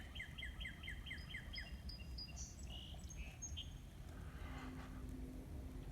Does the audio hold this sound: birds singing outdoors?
yes